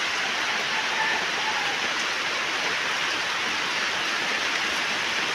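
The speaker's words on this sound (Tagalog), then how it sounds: "Ayan, nalakas na naman po ang ulan." Heavy typhoon rain pours steadily onto surfaces nearby, a dense continuous hiss without pauses.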